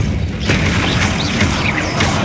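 Depulsor spell cast in Hogwarts Legacy, a loud booming blast with a crashing burst and rumbling low end that fills the whole moment, no talk over it.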